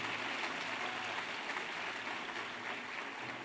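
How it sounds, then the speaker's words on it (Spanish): A church congregation applauds during a sermon, a steady, soft, dense wash of many hands clapping that sounds distant and carries on without a break. "Fuerte aplauso al Rey entonces"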